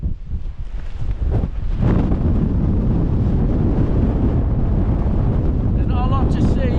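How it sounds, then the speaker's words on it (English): Strong wind buffets the microphone on a windswept mountain summit near a cairn during a passing shower, a continuous loud roar with gusty surges and no pauses throughout. "the wind is brutal"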